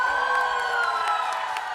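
Workshop audience clapping and cheering, sustained whooping voices rising over scattered claps in a loud, brief burst.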